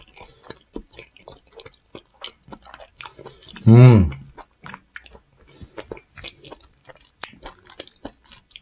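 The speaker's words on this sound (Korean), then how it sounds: "참치를 먹어보도록 하겠습니다." Close, soft chewing of aged tuna sashimi, small wet mouth clicks and bites throughout, with a brief voiced hum in the middle.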